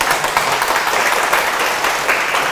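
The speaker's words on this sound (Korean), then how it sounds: "큰 박수 부탁드립니다." An audience at a Korean university philosophy book talk applauds, a dense, steady wash of many hands clapping that carries loudly through the whole stretch.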